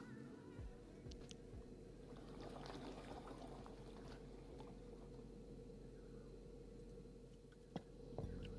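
Yeast poured into a fermenter in the BrewMaster brewing game, a soft steady liquid pour with faint trickling over a constant low background hum, quiet throughout with a small clink near the end.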